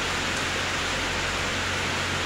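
Steady rain falls as a dense, even hiss, loud and constant throughout with no talk.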